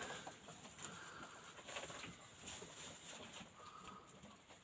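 Hens in a henhouse on a December evening cluck and coo softly and continuously, faint and fairly close, with occasional quiet calls rising above the steady murmur.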